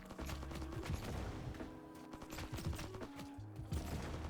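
Rapid weapon fire in VRChat, a dense run of overlapping shots and bursts at steady loudness throughout.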